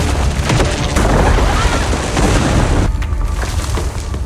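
Bombs detonate in a film scene, a loud continuous roar of explosions and rumbling blasts that fills the whole stretch, with a sudden drop in the debris noise near the end.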